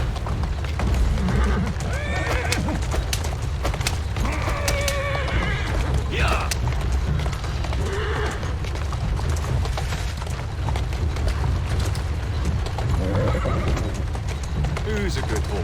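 A horse in Assassin's Creed Syndicate whinnies several times and its hooves clop steadily, set against a constant low rumble of game ambience.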